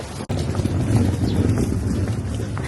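Wind buffets a microphone outdoors in Kamakura, a loud continuous low roar after a brief dropout at the start.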